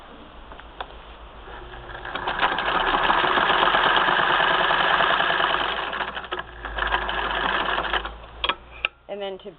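A 1934 Singer 99 sewing machine stitches up close in a steady, loud mechanical whirr that speeds up, slows, and ends in short bursts, with a person talking over it.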